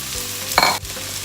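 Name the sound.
onions sautéing in hot pan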